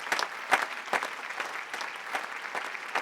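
Enthusiastic audience applause after a performance, a dense steady patter of many hands clapping with a few sharper claps standing out, moderately loud and continuous throughout.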